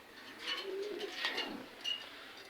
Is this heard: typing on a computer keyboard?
no